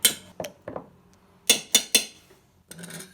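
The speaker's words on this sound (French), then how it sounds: "On mélange tout doucement." A utensil gently mixing egg yolks, honey and mustard in a bowl, giving a handful of crisp clinks and taps in short clusters with quiet gaps between them.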